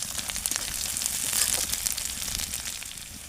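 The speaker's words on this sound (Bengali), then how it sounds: "পেঁয়াজটা দিয়ে পেঁয়াজটা একটু হালকা লালচে করে ভেজে নেব" Onion and chili sizzling in a pan of hot oil for a leafy vegetable and taro dish, a steady broadband crackle and hiss holding close and fairly loud throughout with no talk.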